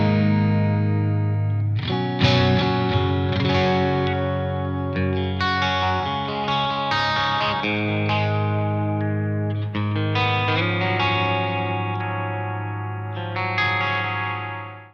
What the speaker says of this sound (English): back to our original tone with nothing engaged except the reverb and delay